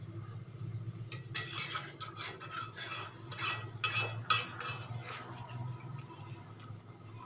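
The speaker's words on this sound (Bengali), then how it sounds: "মশলাটা, মাংসটা ভালো করে জলের সাথে মিশিয়ে দেব" A spoon stirs and scrapes through spiced chicken kosha mixed with water in a pan on a gas stove. Steady, soft scraping and clinking strokes sound up close over a low background hum.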